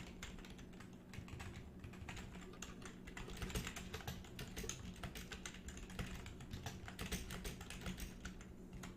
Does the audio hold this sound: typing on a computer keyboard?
yes